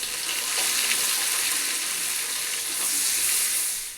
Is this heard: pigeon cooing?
no